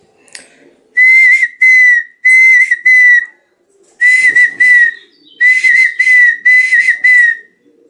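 Hand-carved wooden partridge and quail call whistle blown in six short bursts, grouped mostly in pairs with brief gaps between, each a clear, bright, loud warbling tone close to the listener, with no talking.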